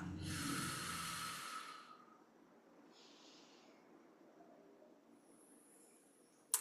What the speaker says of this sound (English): Full breath in. Full breath out.